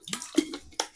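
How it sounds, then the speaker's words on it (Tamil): Water is poured into a bowl of mehendi henna paste in a few short splashing bursts, close and soft, with no voices. "இன்னும் கொஞ்சம் தண்ணி வந்து ஆட் பண்ண போகிறோம்."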